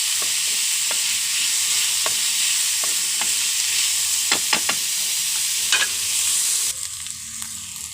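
Onions sizzle steadily in a hot pan for a Kerala-style leaf-wrapped fish dish, with sharp stirring taps and scrapes cutting through the loud hiss, which eases slightly near the end.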